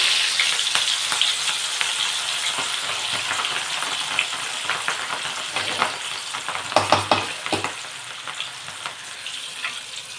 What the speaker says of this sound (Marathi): आता हे मिरचीचे तुकडे सुद्धा तळून घ्यायचे